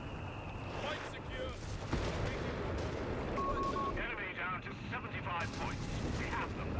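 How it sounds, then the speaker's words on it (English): Bishop artillery barrage in Company of Heroes 3, booming impacts and rumbling fire mixed into battlefield noise, with a voice talking over it. "More Bishop barrages coming in."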